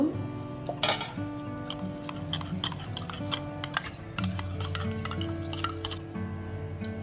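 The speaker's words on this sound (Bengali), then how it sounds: "এখন দুধ দিয়ে মিশিয়ে নেব একটু" Spoon clinking and scraping against a bowl or pot while sour yogurt is stirred into milk, with repeated sharp metallic taps in an irregular rhythm over a steady low kitchen background, close and moderately loud.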